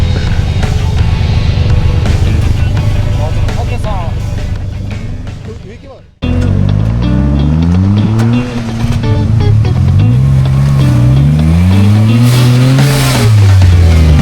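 A Suzuki Jimny (JB23/JA11) climbs a rough forest trail in Hokkaido, its engine revving loud and close in rising and falling surges, cutting out briefly before roaring back with wheel spin, while people talk over it.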